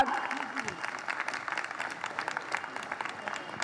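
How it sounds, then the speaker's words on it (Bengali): Applause for young child performers after a kindergarten stage play, fairly quiet and steady clapping from an audience that fills the whole stretch without pause. "আমাদের ছোট শিল্পীদের জন্য একটা জোরে হাততালি হয়ে যাক।"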